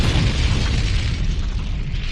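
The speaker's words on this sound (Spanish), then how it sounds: "la explosión despertó a los ocupantes" Dynamite cartridges exploding beneath a passing train around midnight set off a loud, sustained roaring rumble with heavy low-end weight that fills the whole stretch without easing off.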